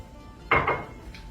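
Water and sugar poured into a metal pot to start a white sugar syrup for Portuguese custard tarts: a single short clatter and scrape of cookware, fairly close, followed by a faint clink and quiet room background.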